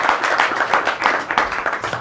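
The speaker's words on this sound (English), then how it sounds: "Give him a very strong hand clap" An audience at a college general assembly claps hands together in a brisk, uneven burst of close, loud applause with no one speaking.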